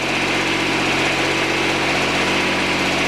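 A John Deere 455 lawn tractor engine idles steadily, a constant close, loud mechanical drone with an even hum and no change in pace throughout.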